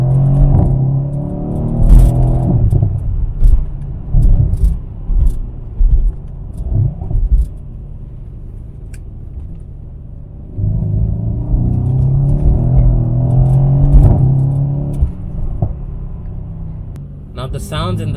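A 2018 Mercedes-AMG C63S engine rumbles and revs through its exhaust, rising and falling in pitch with throttle changes, loud and close, with a quieter stretch midway.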